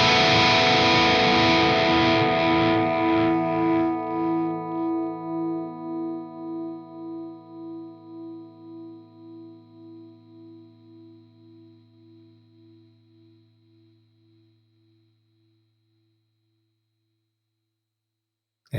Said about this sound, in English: just let that chord naturally decay off, and then have the noise gate take care of the noise afterwards